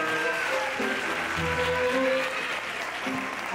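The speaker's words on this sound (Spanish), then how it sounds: "Un aplauso para Mudena, porfa." Applause from an audience at a Christmas gala show, a steady dense clapping that fills the room at moderate volume, heard without speech.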